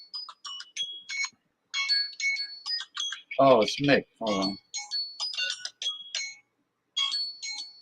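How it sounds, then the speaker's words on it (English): A phone plays an incoming-call ringtone, a bright chiming melody repeating steadily for several seconds. A voice speaks briefly partway through. "I'm clicking yes to the phone call."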